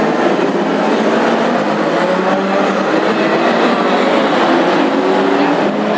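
Classic hot rod race cars circle the Wimbledon Stadium track on warm-up laps, a dense continuous engine roar that stays loud and steady throughout, with no breaks between cars.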